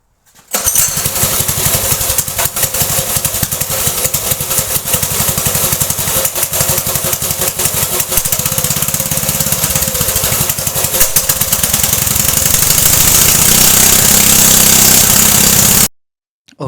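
A small homemade go-kart engine starts up and runs steadily, loud and close with a constant buzzing roar for about fifteen seconds before cutting off, rising slightly in pitch toward the end.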